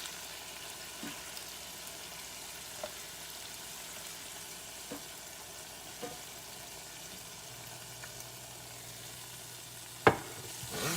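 Beef browning in a skillet for a one-pot beef and potato meal, a quiet, even sizzle with occasional soft taps of a utensil and one sharper clatter near the end.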